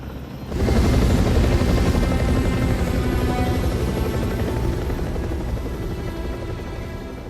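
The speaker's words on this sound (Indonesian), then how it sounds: "datang lagi 2 helikopter jemputan yang akan membawa Lisa pulang" Two arriving helicopters thump with a steady, loud rotor chop that swells in quickly and holds, gradually easing a little in level, with no voices over it.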